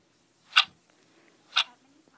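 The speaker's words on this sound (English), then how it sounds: "The only sound in the room was the ticking of a clock." A clock ticks in a quiet room, giving two crisp, distinct ticks about one second apart against near silence.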